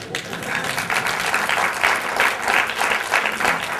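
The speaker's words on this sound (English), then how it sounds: "I can listen all of them clapping." An audience applauds steadily throughout, a dense continuous clapping from a crowd with no pauses.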